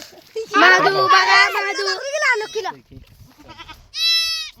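A goat that has just given birth to a kid bleats up close after a stretch of loud people talking nearby.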